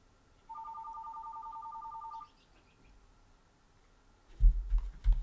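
A phone rings with an incoming call, one steady electronic trill lasting under two seconds, then quiet before low handling thumps.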